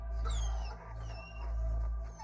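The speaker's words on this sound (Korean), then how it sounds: "옆에 있던 그 둥이 녀석은 갑자기 입을 실룩실룩거리더니 낑낑거리는 소리를 내더군요." A dog whimpers and whines in high, wavering cries, two swelling bursts over a low steady hum, close and fairly soft with no talking.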